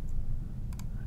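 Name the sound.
mouse clicking while using the pen tool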